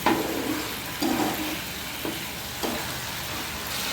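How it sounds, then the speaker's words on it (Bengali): Spice paste sizzles in oil for a bata fish tel jhal curry, a steady close frying hiss with periodic stirring bursts, no talking. "ভালো করে মশলাটা কষিয়ে নেব।"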